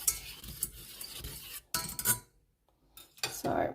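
Stirring brisket gravy with butter in a pot on a stovetop, taken off the heat: close metal scraping and rasping of a utensil against the pot in bursts, pausing briefly before resuming.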